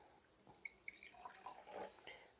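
A piece of hot, freshly soldered metal, heated with a blowtorch, drops into a jar of water with faint splashy drips and a soft bubbling sizzle, quiet and close, with no talking.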